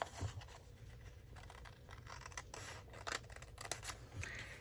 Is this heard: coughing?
no